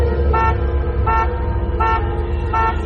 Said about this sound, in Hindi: ठीक तभी पीछे से गाड़ी का हॉर्न बजा।